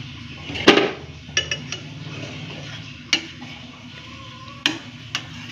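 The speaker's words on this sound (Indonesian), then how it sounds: "Sambil diaduk." A spoon stirs a pot of soup heating toward a boil, giving several sharp clinks and scrapes against the pot over a low background sizzle, close by with no talk.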